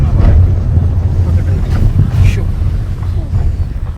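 Cold wind blows across the Nelliyampathy hills, loud gusty buffeting on the microphone with a low steady rumble and brief bursts, continuous over a few seconds.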